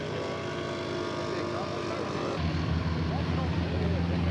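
A scale model aircraft with a diesel engine flies at an outdoor scale aircraft show, its propeller engine droning steadily and growing louder midway, with people talking nearby over the engine note.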